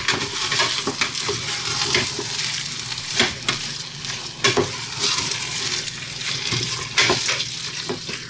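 A chorizo and ricotta filling is stirred and scraped around a hot pan, with repeated utensil scrapes and knocks over a continuous moderate sizzle.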